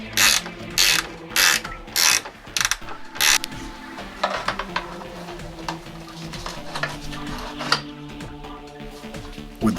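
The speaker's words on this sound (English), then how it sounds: "it is a perfect spot for ratcheting wrenches" Ratcheting wrench loosening 10mm bolts on a Mercedes 300SL R129 radiator, a few loud bursts of rapid pawl clicking up close, then softer intermittent clicks and light mechanical clatter.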